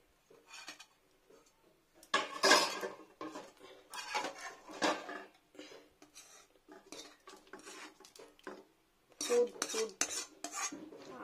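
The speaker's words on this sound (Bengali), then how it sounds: "আমি ঢেলে নেবো পোস্তটাকে পুরো একটা গামলার মধ্যে" A utensil scrapes and clinks against a large bowl as aloo posto, potatoes in poppy seed paste, is poured and pushed in, with bursts of scraping separated by quiet gaps, close and fairly soft.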